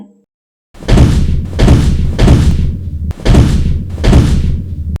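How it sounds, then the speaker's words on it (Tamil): A door being forcibly broken down, with four loud, heavy slams in a row close by, each a booming thud that rings on briefly after a short silent start. "கதவு உடச்சிரு"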